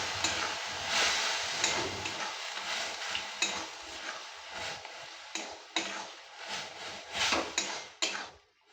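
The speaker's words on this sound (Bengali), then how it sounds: "এবারে ভালো করে একটু নেড়ে চেড়ে ভাজা ভাজা করে নিতে হবে" Boiled greens are stirred and fried in a pan, with a light sizzle under repeated scraping and clacking strokes of a utensil against the pan, fairly faint and irregular in rhythm.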